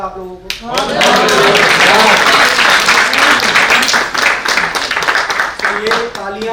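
Loud, dense audience applause at a Rotary Club gathering, a sustained wall of clapping that swells after a brief opening and continues throughout, with voices of the crowd mixed in underneath.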